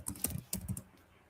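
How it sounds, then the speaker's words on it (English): Typing on a computer keyboard: a short burst of quick, uneven clicks and key thumps, fairly close and moderately quiet, with no voices over it. "I'm typing it correct, right?"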